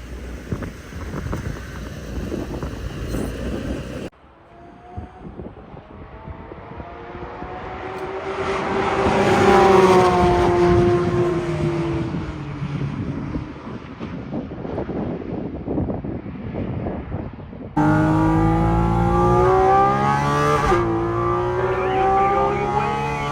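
Porsche GT4 RS engine revving hard and accelerating on a European road, loud rising engine note with gear changes, wind noise in the cabin, sharp climbing pitch near the end.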